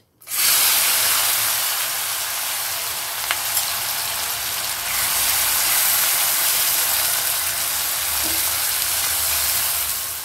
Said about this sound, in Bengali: এবার আমি এর মধ্যে দিয়ে দেব 1 কাপ পরিমাণ কুচনো পেঁয়াজ।